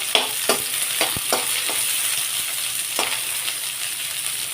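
Sliced large onion sautéing in a pan for a Tamil-style ridge gourd peel chutney, giving a steady close sizzle with several sharp stirring clicks and scrapes of a spoon against the pan.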